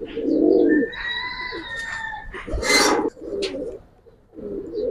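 Restless pigeons kept for colour breeding coo in low bursts near at hand, with faint tonal whistles and a sharp rustle of fluttering wings partway through.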